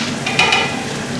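Garlic sizzling in a hot pan for ginisang ampalaya, a steady close crackling hiss with a couple of brief stirring scrapes, no voices.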